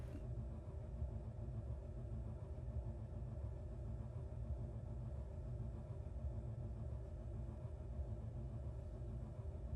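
Low, steady rumbling drone of atmospheric engines on a spaceship in Space Engineers, a continuous engine hum that holds at an even level throughout with no talk.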